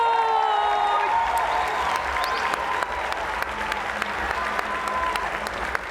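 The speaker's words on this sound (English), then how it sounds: "big cheer there for Karabo" Audience at a cricket awards ceremony applauds steadily for a player of the year winner, dense sustained clapping with light cheering, a voice briefly audible at the start.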